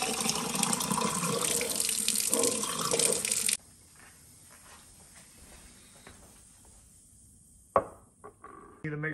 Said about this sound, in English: and fill it up with hot water.